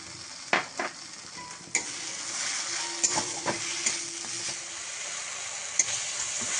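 Tomatoes frying and being stirred into a spice mix for a Bengali koi fish curry, a steady close sizzle broken by a few sharp clacks of a spatula against the pan.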